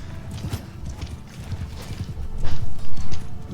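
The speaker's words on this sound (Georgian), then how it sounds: "ეს ცხენები დადიან უმისამართოთ ესე." Horse hooves in the video game Mount & Blade II: Bannerlord, a busy clatter of clip-clopping steps from several horses, swelling louder toward the end with faint neighs.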